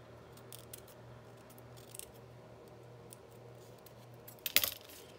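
Scissors trimming a paper journal page, faint snips and rustling close by, ending in one sharp louder cut near the end.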